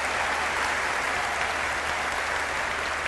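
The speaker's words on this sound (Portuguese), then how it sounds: "um aplauso especial para Peru" A church audience applauds Paraguay during a gospel gathering, a dense, steady wash of clapping that holds evenly from start to finish with no voices above it.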